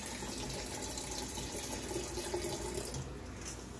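Plums and liquid poured from a container into a one-gallon plum wine fermenter in a kitchen sink, a steady rushing splash that runs for about three seconds and then eases slightly, close with no voices.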